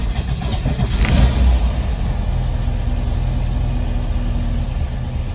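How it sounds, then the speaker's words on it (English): A Porsche 914 engine with an aftermarket ECU starts with a brief rough burst and then settles into a steady, low idle rumble that stays constant and fairly close. "start the engine."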